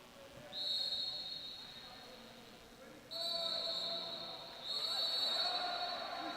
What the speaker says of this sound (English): And another whistle that comes in